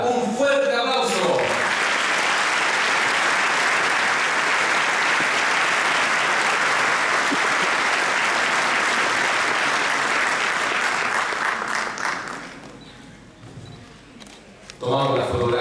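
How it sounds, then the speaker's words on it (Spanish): Loud, sustained audience applause at a land title handover ceremony, with dense clapping lasting around twelve seconds before tapering off, camera clicks mixed in, and voices briefly at the start and end. "¡Un fuerte aplauso!"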